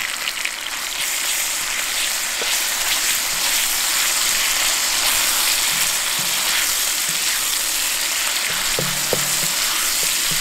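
Garlic sizzles and fries in hot oil in a wok, a continuous loud crackling hiss with occasional soft clinks and stirring scrapes, and no talking.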